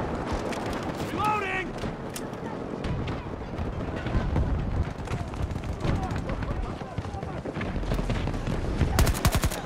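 Rapid bursts of gunfire from guns in a video game, dense and continuous, with shots layered over a busy battle background while players talk now and then.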